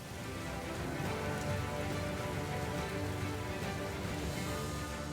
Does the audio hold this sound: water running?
no